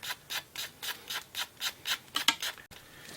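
Sandpaper rubbing back and forth over an epoxy-coated fishing float body, in about ten steady rhythmic strokes, close and fairly loud, with no talking, ending in a sharp cutoff and a quiet tail.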